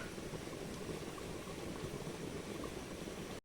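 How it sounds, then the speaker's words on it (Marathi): Chicken curry cooking outdoors by a stream in Konkan, Devgad, gives off a continuous bubbling, frothy simmer, fairly soft and even throughout, ending with a brief sudden cutoff; no one speaks. "इकडे चिकनचो खळखळा आवाज येता"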